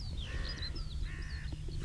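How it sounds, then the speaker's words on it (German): Crows cawing repeatedly out in an open field, several harsh calls spread across the moment at moderate distance over steady low outdoor background noise. "da scheinen Vögel zu sein"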